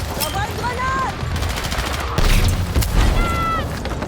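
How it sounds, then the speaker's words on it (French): A grenade blast and rapid gunfire in the video game Battlefield 6, sharp bursts of shots and booms layered over a busy battlefield din, with a person talking over it. "J'envoie une grenade"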